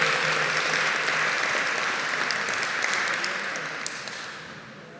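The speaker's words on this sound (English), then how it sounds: "Give her another round of applause." An audience applauds at an award ceremony during a Black History Month event, a full round of clapping with a few sharper claps and faint cheering, slowly fading toward the end.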